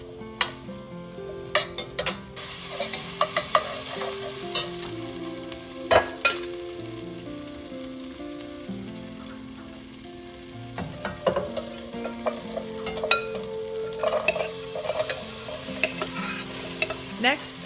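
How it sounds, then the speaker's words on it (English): Onions sizzling in beef drippings and olive oil in a large pot for soup, with a steady fry and frequent scraping and clattering stirs of a utensil against the metal, close and fairly loud. "Add your onion to the pan and let them cook for about 5 minutes until golden and translucent."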